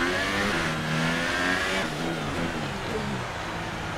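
A Formula 1 car in F1 2018 accelerates out of a corner at the Singapore Grand Prix. The engine note is loud and rising, a steady high-pitched whine climbing through the gears without pause.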